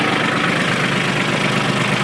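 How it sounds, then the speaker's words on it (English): A tractor engine running steadily under load while pulling a chain to drag out an old piano, a loud, dense rumble with no change in level across the clip. "I'm going to hook this chain up to the tractor, and I'm going to pull that chain out of there."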